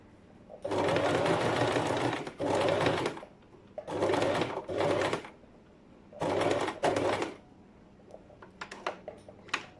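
A sewing machine stitches binding in three loud sustained bursts, separated by short pauses, and the third burst is a reverse stitch. A few light mechanical clicks follow at the end.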